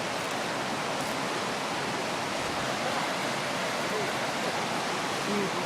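Rushing floodwater pours through a ravine that is normally a calm little creek, a dense, steady broadband roar that stays loud and unbroken throughout with no voices over it.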